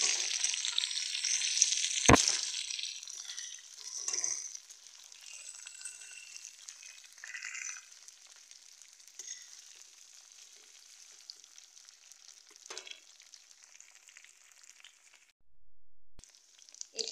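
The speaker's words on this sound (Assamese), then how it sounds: "এতিয়া অকণমান লৰাই দিম" Meat curry with lentils and jackfruit seeds sizzles in a pan as it is stirred, a soft steady frying hiss with occasional scraping and clinks of the utensil, and a sharp knock partway through.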